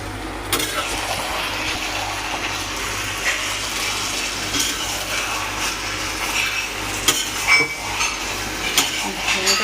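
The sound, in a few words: food frying and stirred with a spatula in a pan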